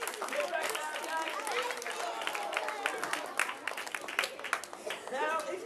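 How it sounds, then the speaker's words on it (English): Audience applause at a live children's event, with sustained clapping and cheering from a crowd over several seconds, mixed with chatter and an adult voice speaking. "Big round of applause."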